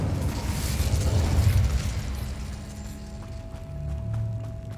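A fire spell is cast in Hogwarts Legacy, giving a burst of booming, crackling game effects followed by a rumbling tail and a sustained tone, loud and without speech.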